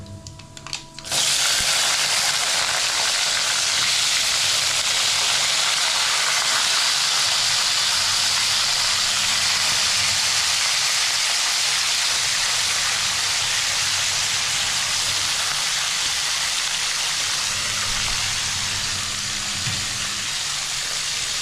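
Brinjal hits hot oil already crackling with mustard seeds and urad dal, and a loud, continuous sizzle bursts out and carries on steadily, close and strong, without voices.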